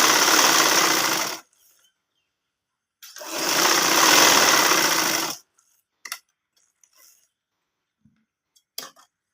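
Sewing machine stitching a ladies' side pocket: two sustained bursts of running, about one and two seconds long, separated by silence, followed by a few faint clicks and taps.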